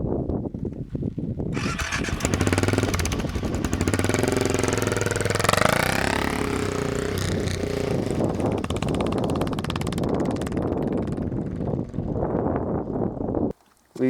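Motorcycle engine revving and labouring while riding across sand in Mongolia, a steady loud drone with rising and falling pitch and wind rush, lasting most of the stretch before cutting off abruptly.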